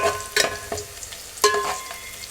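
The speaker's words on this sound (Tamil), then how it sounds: "இப்போ வெங்காயம் நல்லா பொன்னிறமாக வதங்கி வந்துருச்சு ஃப்ரெண்ட்ஸ்." Onions sautéing to golden brown in a pan, a soft close sizzle punctuated by a few sharp stirring scrapes and clinks.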